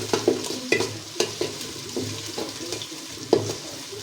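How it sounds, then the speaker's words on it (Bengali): Ginger garlic paste fries in a pot for biryani, a close sizzle broken by repeated sharp scraping knocks of a spoon stirring it, about one stroke every half second. "এখন এটা আমি লাল লাল করে ভাজবো"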